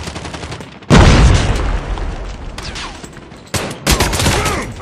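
Loud, close bursts of rapid gunfire in Call of Duty Team Deathmatch on the Hijacked map, breaking out in heavy volleys separated by brief lulls.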